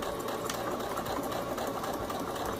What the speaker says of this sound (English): I'm gonna sew forward and back just a bit.